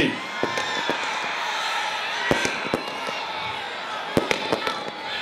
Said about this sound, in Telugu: ఏ తమ్ముళ్ళు క్రాకర్స్ ఆపాలి